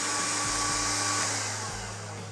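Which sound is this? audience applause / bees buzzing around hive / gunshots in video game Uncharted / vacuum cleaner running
vacuum cleaner running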